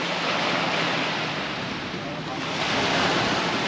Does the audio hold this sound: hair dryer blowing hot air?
no